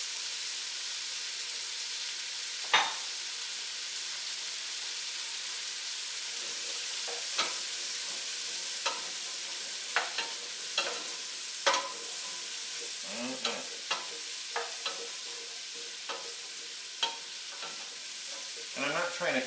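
Carrot chunks and other vegetables for a beef stew softening in a pot, a steady soft sizzle running throughout with scattered stirring scrapes and light clicks, close and fairly quiet, with no voices.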